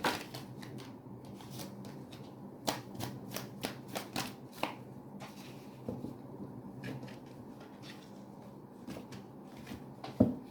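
Tarot cards riffle and slap together in short bursts, a shuffle repeated several times at close range, with quiet pauses between.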